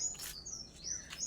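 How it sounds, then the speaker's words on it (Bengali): Small birds chirping in quick, high twittering bursts, fairly faint and distant, with brief pauses between calls and no voices. "পাখিদের কিচিরমিচির আওয়াজ।"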